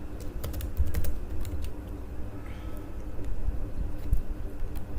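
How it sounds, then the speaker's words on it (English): Computer keyboard typing while entering a variable in Mathematica, a scattering of quick close key clicks over a steady low room hum, with no voices. "just type this variable in"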